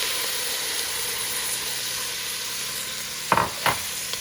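Peas and carrots sizzle in a pan with cooked onion, a steady frying hiss broken near the end by two sharp louder bursts as the food hits the hot pan.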